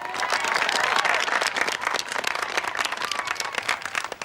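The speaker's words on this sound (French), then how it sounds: "Je voudrais qu'on l'applaudisse." Sustained audience applause filling the room at an equestrian competition, dense steady clapping from a crowd that holds loud throughout and eases slightly toward the end.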